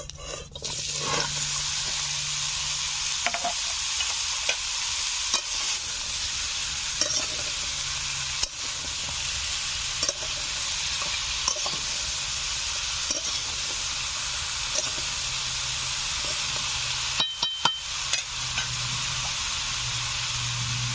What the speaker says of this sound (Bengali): কড়াইতে মাছ ভাজা তেল রয়ে গেছে কিছুটা, আমি লাউ দিয়ে দিচ্ছি।